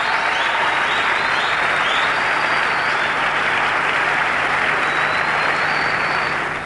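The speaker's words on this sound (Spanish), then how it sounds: "Dense un aplauso, pero fuerte, a usted mismo." Loud, dense applause from a large live audience, sustained and steady throughout with no pauses.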